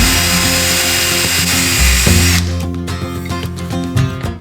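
A drill spins a fine-threaded 3M ball brush against metal parts of a Harley-Davidson FXR, giving a loud, close, continuous high whine with gritty polishing noise that eases off and turns choppier toward the end.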